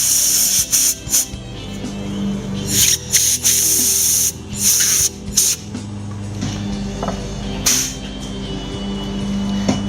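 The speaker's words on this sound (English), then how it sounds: "give it a spray with some compressed air" Loud bursts of compressed air hissing through a carburetor hole in short blasts, some choppy, close up over a steady mechanical hum.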